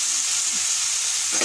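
Dried fish thecha cooks in a pan while being stirred, giving a steady, close frying sizzle and hiss that runs throughout without talk.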